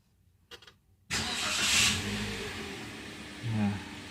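Daihatsu Great New Xenia 2016 with an oxygen sensor fault starting up: a short starter crank, then the engine catches with a sudden roar and settles into a steady idle with a brief rev near the end.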